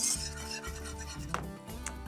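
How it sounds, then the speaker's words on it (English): A whisk stirs agar-agar into a hot red berry jelly mixture in a pot, giving a soft, steady scraping and swishing sound, quiet and continuous, with a few light taps against the pan. "just with a whisk, just going to mix that in so the agar-agar dissolves"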